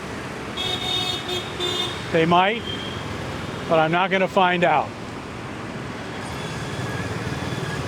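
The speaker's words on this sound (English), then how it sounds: "traffic is moving much faster than it did in Chennai" Busy road traffic in Bengaluru, India, with steady roadside noise broken by two bursts of car horns, one short and one longer cluster, close by; a person speaks briefly over it.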